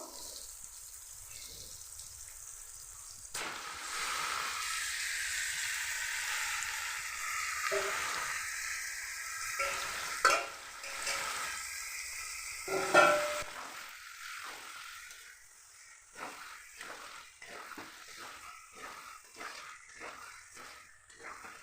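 Marinated meat fries in a pan with whole onion, producing an uneven sizzle that swells and fades as it is stirred, with intermittent scraping and clatter throughout.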